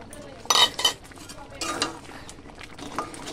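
Spoon stirring a fried egg into thick, fully cooked mashed dal in a pot, giving a few soft scraping and clinking strokes with quiet pauses between them, close and moderately loud.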